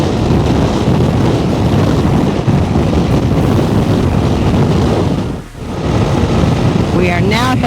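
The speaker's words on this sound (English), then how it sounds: "I'm getting the wind head on here." Strong headwind roaring over a motorcycle rider on Ruta 40 near Bariloche, a loud, steady, buffeting rush of wind noise with a brief dip near the end.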